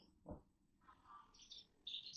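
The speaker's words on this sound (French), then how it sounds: "à chaque fois, l'oiseau, il se met à chanter après, comme il vient de faire" Inside a mill, a bird gives a few short, faint chirps and a brief warbling phrase over low background hum, with no one talking.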